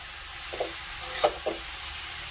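Grated carrot is sautéed in ghee for carrot halwa, with a soft, even sizzle throughout and three brief spatula scrapes near the middle.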